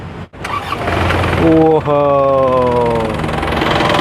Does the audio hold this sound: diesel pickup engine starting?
yes